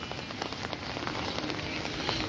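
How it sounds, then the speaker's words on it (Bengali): Heavy rain pouring steadily in Comilla, a dense, even hiss of drops striking surfaces, fairly quiet and with no voices. "কালকে রাতের থেকে প্রচুর বৃষ্টি হচ্ছে আমাদের কুমিল্লা"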